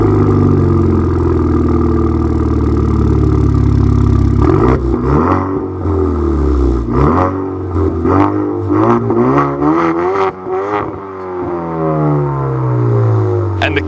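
Modified Chevrolet Camaro with a Mishimoto axle-back race exhaust, loud steady idle rumble that breaks into repeated revs, the engine note rising and falling several times up close.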